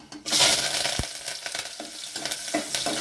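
Onions and curry leaves hit hot oil for an urundai kulambu, giving a loud, steady sizzle and crackle with a few sharp pops and a stir-like scrape partway through.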